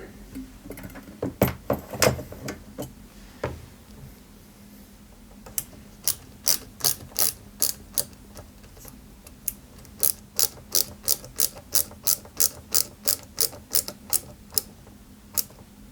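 A screwdriver ratchets screws into the metal frame of a 1/8-scale Citroën 2CV AZLP model, giving sharp, close clicking runs in quick rhythmic bursts with short pauses between them.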